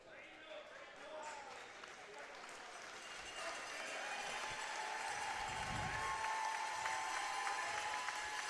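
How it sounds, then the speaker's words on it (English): Fans in a high school gym applaud during a boys' provincial basketball game, a moderate clapping that builds and swells, with crowd murmur and an announcer's voice running over it. "Fans giving a round of applause for Braden Fitt, the grade 12 student"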